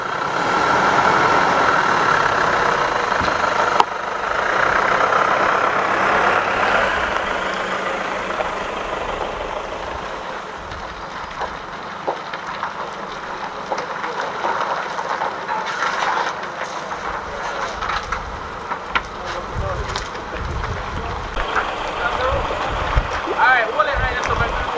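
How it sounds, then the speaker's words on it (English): Boat being launched into the water for a deep-sea fishing trip in Jamaica, with an engine idling and water sloshing beneath nearby voices of people talking. "We're launching the boat, bro."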